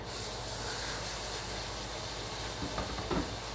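A kitchen exhaust fan runs steadily throughout, a constant broadband hiss and hum with a few faint clatters of cooking near the end, no voices.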